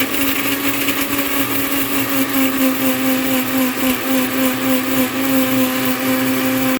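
A mixer grinder whirs loud and steady, blending masala ingredients into a fine paste for Goan squid ambot tik, its motor drone constant throughout with no talk.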